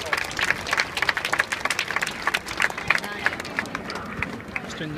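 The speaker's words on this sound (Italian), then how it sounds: "allora salutiamolo ancora con un grandissimo applauso." A crowd applauds at the Frecce Tricolori air show in Andora, a spread of quick overlapping claps lasting several seconds while a voice talks over it.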